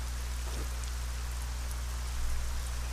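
Steady rain in the dark ArcaniA video game world, an even, hissing patter that stays constant for a few seconds over a low humming background, with no voices.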